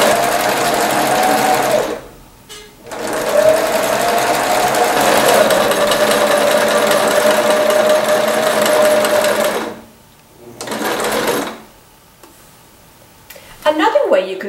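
Sewing machine stitching across string to join fabric hearts into a swag garland, a steady whirring run of about seven seconds and a shorter burst after a pause, close and loud.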